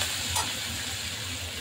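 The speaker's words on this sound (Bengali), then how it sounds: "ডালটা ভাজা হয়ে গেছে।" Dal frying in a pan with curry leaves while making upma makes a soft, continuous sizzle and hiss, fairly quiet and steady with no talking.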